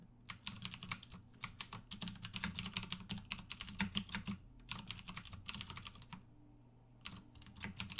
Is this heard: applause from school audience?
no